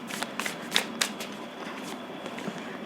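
Tarot cards being shuffled, a quick run of soft papery riffles and flutters with a few sharper slaps, close and fairly quiet, with no voices.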